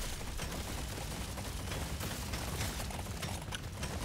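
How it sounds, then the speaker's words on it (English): Dense, continuous crackling blasts and rapid mechanical firing fill a chaotic fight in the video game Deep Rock Galactic Survivor, a hefty explosion folded into steady loud gunfire that runs the whole stretch without talk. "Pretty hefty explosion there."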